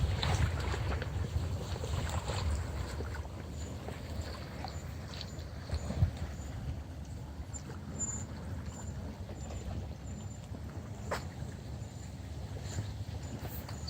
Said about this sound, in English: listen to the waves for a moment